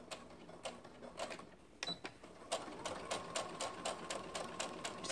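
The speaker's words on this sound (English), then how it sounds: "now you can begin to sew the top of your pocket all the way around" A sewing machine stitches a continuous seam around a skirt pocket in quick bursts of rapid mechanical clatter, pausing briefly before resuming at a steady, faster pace close by.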